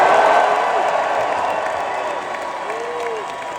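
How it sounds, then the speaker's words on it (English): A large convention audience in Hall H at San Diego Comic-Con cheering and applauding together, a dense roar of clapping and whoops that fades slowly, loud and alone. "just give a nice cheer to let him know there are people in the room really quick"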